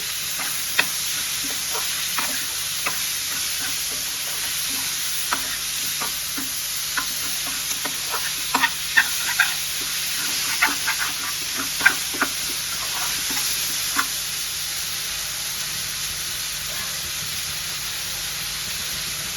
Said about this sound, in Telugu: టమోటాలన్నీ వేసుకొని మంచిగా కలుపుకోండి